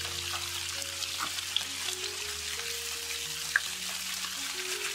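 Pieces of fish fry over medium heat in an oiled pan, a quiet steady sizzle with occasional small pops and a low background hum, and no voices.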